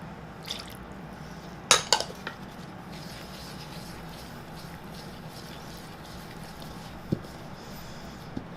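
Cold water is added to a teff flour tart dough mixture with oil and honey, giving a few brief, quiet splashes and drips over a faint background hum, with no talking.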